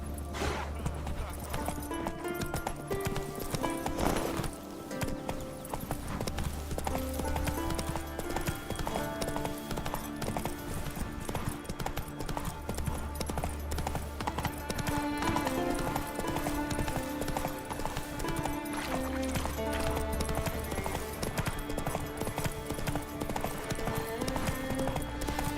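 A horse's hooves clip-clop at a quick steady pace in The Witcher 3 video game, with game music playing underneath and a voice speaking briefly.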